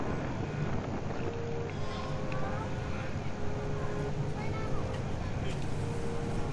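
Strong wind buffets the microphone on an open floating train running along the crest of the Pasak Jolasid Dam in Thailand, a steady broadband rush that stays loud for the whole clip, with faint talk beneath it.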